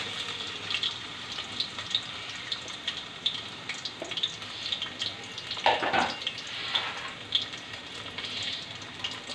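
Chopped onions fry in a pan with a close, steady sizzle and hiss, broken by irregular spatters and a louder burst of crackling midway, with no voices.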